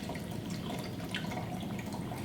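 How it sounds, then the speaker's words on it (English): Water poured from a measuring cup into a beaker, a steady soft trickle and splash of liquid running for a couple of seconds, close and fairly quiet, with no talking. "Pour it into the beaker."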